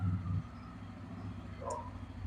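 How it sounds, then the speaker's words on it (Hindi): A family car is moved into place on a house porch, its engine holding a low, steady hum at moderate distance, with a brief faint higher chirp midway. "भाई यहाँ पर ये वाली गाड़ी लगा रहा है"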